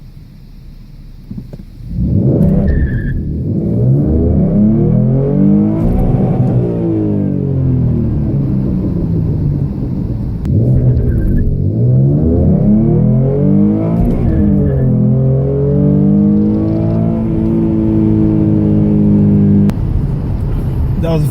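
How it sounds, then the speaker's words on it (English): A tuned Ford Mustang accelerates hard from a standstill on a flat road in a 0 to 60 run. The deep engine roar rises through the gears in repeated upward sweeps and stays loud and close throughout. "I went to a flat road and I did another 0 to 60 test."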